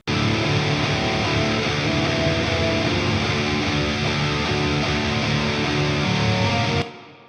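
A dense, distorted metal electric guitar riff, recorded with a ribbon microphone, plays continuously at full loudness with a roomy, ambient wash, then cuts off abruptly near the end.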